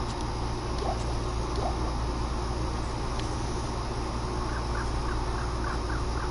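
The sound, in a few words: bird cawing ambience in the video game Diablo 2 Resurrected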